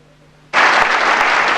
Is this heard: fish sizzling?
no